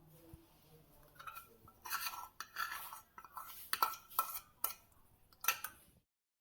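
A spoon stirs milk powder into a milky mixture in a metal pot, producing irregular clinks and scrapes against the pot sides, fairly quiet and close, with no talking.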